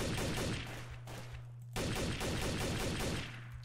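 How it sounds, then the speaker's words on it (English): Gunfire in the video game Garry's Mod Trouble in Terrorist Town crackles in dense repeated bursts, a quiet steady fusillade with a low tonal hum underneath and a sharp restart partway through. "He's shooting at me though"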